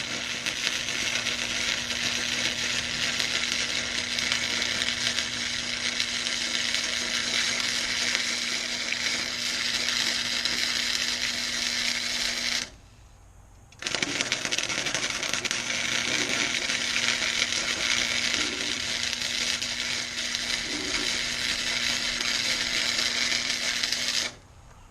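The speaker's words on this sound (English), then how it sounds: "I better let the welder cool off a little bit. It don't like doing a lot of heavy welding." Heavy arc welding on the steel tow bar of a wood chipper: a loud, steady crackling hiss with a constant electrical hum that stops briefly midway before resuming, with no talking.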